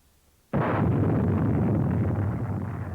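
Weapons fire from World War II Pacific training footage: a sudden loud blast that continues as a sustained, rumbling roar of firing for over two seconds, no talk.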